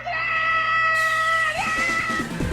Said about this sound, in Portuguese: já deixamos a irmã gritar à vontade